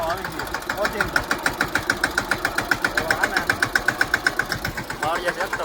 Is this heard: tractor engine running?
yes